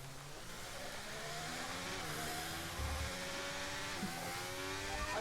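Racing car engines roaring in the F1 23 video game, a continuous loud high-revving whine that shifts pitch through the gears, with a brief low thump partway through.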